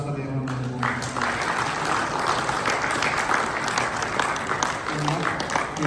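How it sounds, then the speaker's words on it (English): An audience at a formal Ghanaian gathering with the President and a traditional king applauds the Honorable, giving dense, steady clapping throughout. Voices and cheers are mixed in, and a speaker's voice briefly sits near the start and end. "A big round of applause for the Honorable."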